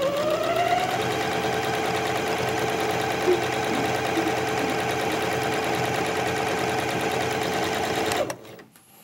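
A sewing machine stitches continuously around a hat brim, a loud, close, steady mechanical whir that runs without pause, then stops abruptly near the end.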